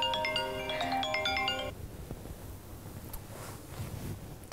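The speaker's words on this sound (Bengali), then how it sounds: "ফোন দিচ্ছে।" A mobile phone ringtone plays a bright repeating melody for about two seconds, close and clear, then cuts off leaving faint windy background noise.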